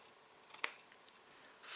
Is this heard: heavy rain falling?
no